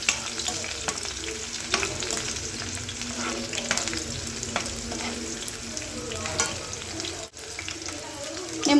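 Garlic fries in hot oil with a steady, dense sizzle, punctuated by occasional soft scrapes of a stirring utensil; close and continuous, with a brief dip near the end.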